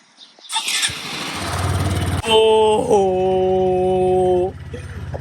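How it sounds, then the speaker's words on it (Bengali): A motorcycle starts after its battery was taken out: rough cranking noise builds, then the engine catches and idles loudly with a steady droning hum, close by, before it drops away near the end. "বাইক স্টার্ট দিয়ে ফেলছি"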